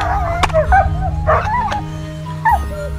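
A dog in the medieval video game Kingdom Come yips and whimpers in a few short, close bursts over a low, steady game background hum.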